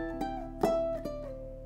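A ukulele plays part of a song with a few quick strums and taps, followed by a sliding ringing note. The playing is close and moderately loud, with no voices.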